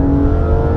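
A BMW E36 M3 engine blips briefly on a downshift during mountain driving, a loud, close, droning engine tone lasting under a second.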